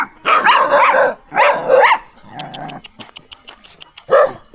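Dogs in a rural Lao village in the forest bark and yelp in a few loud bursts, with a whining, whimpering stretch between them and some faint clicks in the background.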